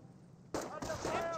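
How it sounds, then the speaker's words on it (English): A German MG42 machine gun fires a short, sharp burst from high ground in Company of Heroes, breaking loud and close out of quiet background ambience. "MG42 sitting on up in a very cinematic high ground position. Does get a great burst there onto their rifle squad."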